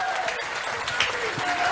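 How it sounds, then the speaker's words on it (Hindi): Crowd applause at a public political rally in Gandhi Nagar market, steady dense clapping over a noisy outdoor background, with faint voices mixed in. "जोरदार तालियां बजनी चाहिए।"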